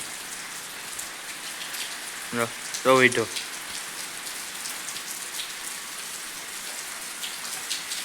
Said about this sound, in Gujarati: કેવો વરસાદ છે આ